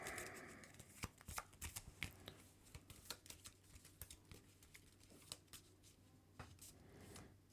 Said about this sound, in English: Shuffle this thing up.